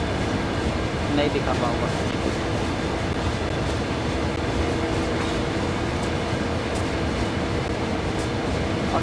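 Train running at low speed at night in Train Sim World 5, a steady low rumble and hum of the locomotive and wheels, with someone talking over it.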